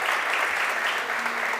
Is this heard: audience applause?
yes